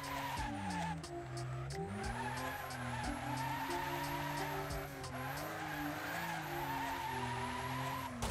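Tires on an R33 Skyline squeal continuously in Wreckfest as the car slides sideways, a loud sustained screech above a droning engine note that rises and falls with the revs.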